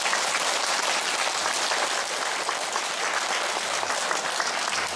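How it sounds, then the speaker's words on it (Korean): Sustained applause from a big church congregation at a Christmas Mass, thick and steady clapping throughout without pause. "여러분들 축하의 박수 드려주세요."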